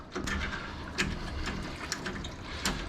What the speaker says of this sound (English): Minimize water spill